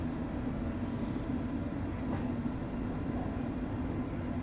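A Class 385 train runs in the Train Sim Classic game on the Glasgow Queen Street to Dunblane route, producing a steady, even rumble and hum of rolling wheels and traction with no break.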